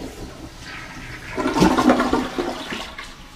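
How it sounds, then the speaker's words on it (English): A newly installed Kohler toilet flushes once, a close rushing swirl of water that swells and then drains away, alone without talk. "We'll give this a trial flush."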